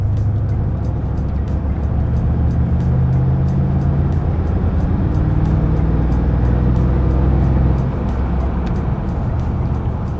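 Mercedes G Wagon accelerating on a road, heard from inside as a steady, loud low engine rumble with road noise that swells slightly as it builds speed.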